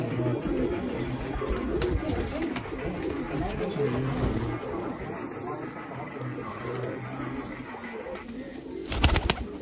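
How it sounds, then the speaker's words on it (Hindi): Old domestic Rampur pigeons, including a kasni pigeon, coo softly and steadily at home, their low repeated calls running under room noise and people talking nearby. "देखिए एक मेरे पास कासनी कबूतर है।"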